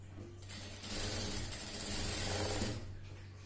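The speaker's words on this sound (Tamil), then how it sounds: "அதுல வந்து 1/4 இன்ச் அளவுக்கு தையல் போட்டுக்கலாம்" A sewing machine stitches a quarter-inch seam on a blouse, running in one steady continuous hum for about three seconds, close and fairly loud, with no talking.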